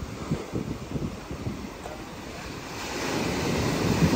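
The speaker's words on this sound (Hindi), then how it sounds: "देखिए बहुत ही बेहतरीन और शानदार समुंदर की आवाज़ें, लहरें, बहुत बेहतरीन नज़ारा है" Ocean waves breaking on a beach in Barbados, a steady loud wash of surf with rolling swells building toward the end, plus some wind rumble on the microphone, with no voices.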